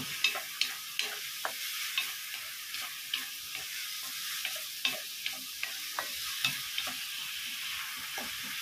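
Oil spatters and sizzles in a pan during home cooking, a steady crackling hiss with regular light ticking and stirring taps, close and continuous with no talking.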